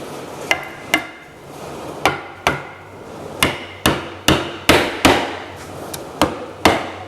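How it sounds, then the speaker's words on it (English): A hammer pounds pieces into place on a wooden rocking chair being glued up, a dozen or so sharp, ringing blows spaced irregularly, close and loud, with no talk. "Now just pound these things in place."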